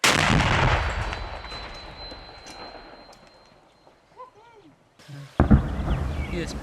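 A sharp, loud blast from an anti-tank weapon firing bursts out near the end after a stretch of quieter outdoor noise, with Ukrainian soldiers talking and shouting before it.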